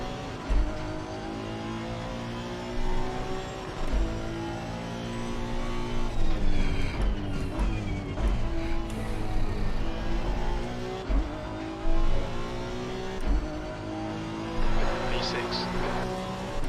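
A Honda NSX Evo race car in a racing video game at Mount Panorama holds a loud, continuous engine note that rises and drops through gear changes, with brief tire squeal as the rear loses traction.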